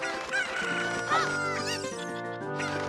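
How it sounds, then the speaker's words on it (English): Super Cuckoos from The Legend of Zelda: Ocarina of Time, a flock of game chickens clucking and squawking in a dense, loud overlapping chorus over steady game music, continuous throughout. "Here go the Super Cuckoos!"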